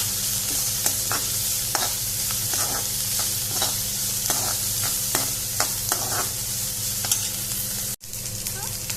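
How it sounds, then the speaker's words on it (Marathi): Onion and green chilli frying in a little hot oil with mustard seeds and asafoetida, a steady close sizzle with soft spoon scrapes and stirring taps throughout, briefly cut by a dropout near the end. "हे पळया आतां भितर कांदो म्हणजे ओनियन आनी हिरवी मिरची घातली"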